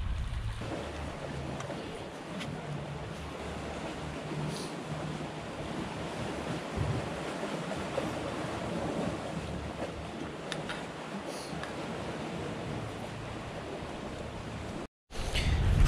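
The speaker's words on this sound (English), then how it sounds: "Tide's just starting to get full now" Surf breaking and washing onto a deserted island shore as the tide rises, a steady close wash with wind buffeting the microphone, continuous throughout with a brief dropout near the end.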